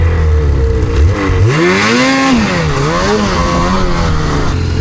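A Ski-Doo Summit Edge Adrenaline snowmobile with a naturally aspirated 850 engine revs loud and close in snow country, its pitch climbing, falling and rising again in repeated throttle swells.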